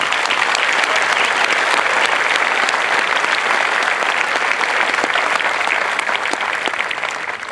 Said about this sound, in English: a big applause for our veterans.